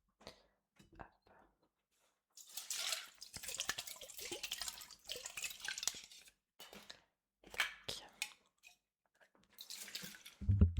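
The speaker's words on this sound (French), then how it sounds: "Je vais vous remettre un petit peu d'eau." Water is poured in short, close splashing bursts, pausing and resuming several times in a quiet indoor setting.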